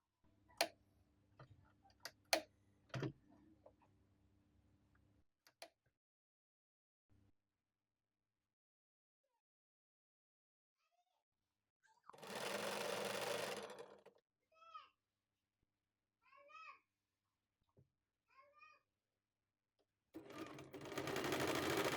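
A sewing machine stitching patchwork quilt fabric runs in short bursts of rapid rattling stitches, separated by quiet pauses and a few sharp clicks, with brief voices between runs.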